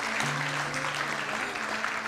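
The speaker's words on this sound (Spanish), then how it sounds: "Dámosle un aplauso fuerte al Señor en esta tarde." Brief burst of steady clapping from a church congregation at an evening service, a continuous wash of hands at moderate level with a faint voice underneath.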